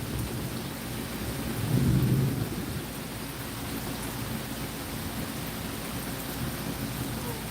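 Steady rain hisses over a surface as a low rumble of thunder swells and fades in the distance.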